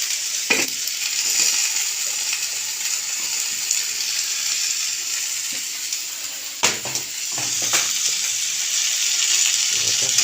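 Food fries loudly in a pan, a dense, constant hiss broken by a few scraping spatula strokes as it is stirred close by.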